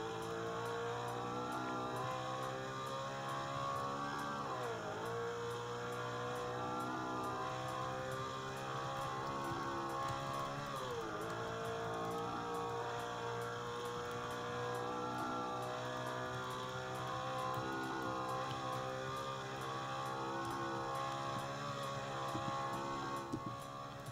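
Car driving in Roblox Project Midnight, a steady droning engine with harmonic whine that rises and dips through gear changes, continuous and moderately quiet with no talking.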